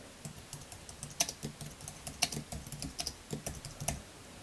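Close, quiet typing on a computer keyboard, a steady run of irregular key clicks with a few sharper taps, no voices present.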